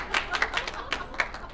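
A billiards hall crowd at a Magic Tour exhibition gives brief scattered claps with light laughter, several sharp bursts in quick succession at moderate distance, with no voices talking over them.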